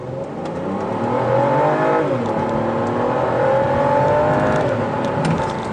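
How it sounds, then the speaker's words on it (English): A 2012 Volvo S60 T6 AWD in sport mode launches hard from a complete stop, its engine note climbing through rising revs with a shift, loud and close without talk. "I'm gonna come to a complete stop right here and"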